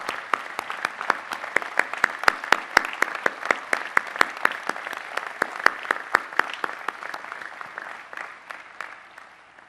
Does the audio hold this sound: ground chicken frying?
no